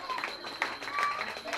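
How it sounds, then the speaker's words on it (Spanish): At a child's Spider-Man birthday cake party, steady rhythmic clapping pulses beneath lively voices, close and continuous for the whole moment. "Fuerte el aplauso."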